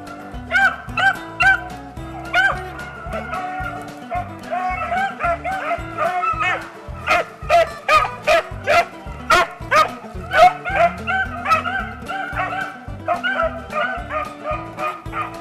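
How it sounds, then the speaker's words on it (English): A pack of rabbit-hunting dogs bays and yips steadily while running a rabbit, with repeated overlapping barks in an irregular rhythm that stays loud and close throughout. "here comes the dogs now, maybe 30 seconds to a minute behind them, and they'll work their way and find them"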